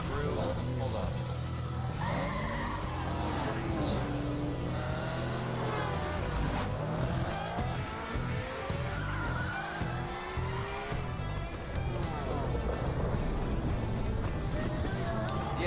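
Racing cars skid and squeal through a dense, continuous mix of engine roar and tire noise from The Crew, a car racing video game, with people talking over the action.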